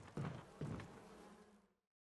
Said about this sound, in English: Do I hear more bees? I hear more bees.